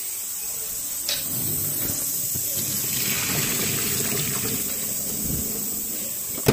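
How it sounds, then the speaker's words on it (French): Cooking water pours off a pot of freshly boiled peanuts, a steady close rush and trickle of liquid that runs the whole time with a small splash near the end. "Donc, je vais décanter les arachides."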